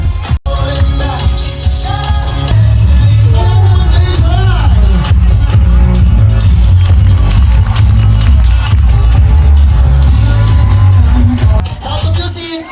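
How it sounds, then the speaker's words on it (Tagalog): Wedding guests cheer and whoop loudly for newlyweds at a reception, a dense, continuous crowd roar with shouts over music and hubbub throughout. "Palakpakan naman po natin."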